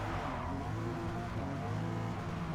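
Race cars in Forza Motorsport set off at the start of a six-lap race at Hakone, among them old Ferraris and a Porsche Cayman. A dense, steady roar of several engines, loud and continuous throughout, with no voices.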